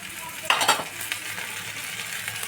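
Boiled moong dal and green peas tipped into softened tomatoes frying in a little oil for a fish-head dal, giving a brief loud splash and stir at the start, then a steady low sizzle.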